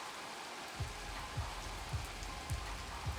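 Rain falls steadily during an outdoor football game, a soft even hiss with faint repeated thumps underneath.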